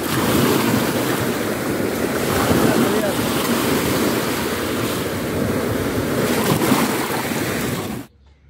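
Steady broadband rush of surf breaking and washing in on the Caspian Sea shore in Dagestan, loud and continuous with some wind buffeting, ending abruptly near the close.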